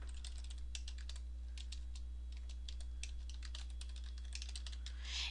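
Rapid keystrokes on a computer keyboard while typing a bulleted list in Dreamweaver CS3, steady close clicking with brief pauses over a constant low electrical hum.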